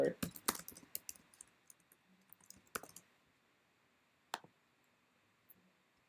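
Keyboard clicks and shortcut keystrokes while working in Ableton, a quick burst of close taps at the start, then sparse single clicks in a quiet room.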